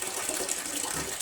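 Water being poured by hand into a toilet tank during a power and water outage, a brief steady splashing gush, fairly quiet, with no voices.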